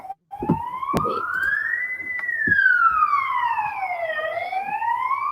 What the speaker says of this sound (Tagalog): Ambulansya siya, sir.